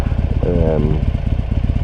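A motorcycle engine with roughly 1,200 miles on it runs steadily close by, a low, even pulsing throb that continues throughout while someone talks over it.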